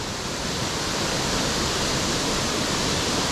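Laurel Falls, a waterfall, gives a constant broadband rush of falling water, loud and steady for the whole stretch with no talk over it.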